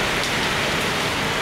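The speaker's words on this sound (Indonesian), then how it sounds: "Waduh, agak kena hujan." Steady rain falls at a bus terminal, a dense, even hiss of drops on surfaces filling the whole moment, close and loud with no voices.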